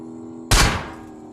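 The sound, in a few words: gunshots in a video game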